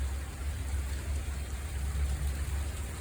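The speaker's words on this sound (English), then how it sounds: "Oh, hail, massive hail." Hail pours down steadily during a cold front storm in Portland, Oregon, making a dense, even patter. The sound is fairly quiet and continuous, with no voices.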